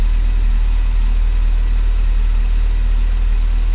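A steady, even idle from an Opel Calibra engine after new spark plugs and sensors were fitted, with a low, constant hum and no revving or talk.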